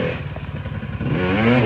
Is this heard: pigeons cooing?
no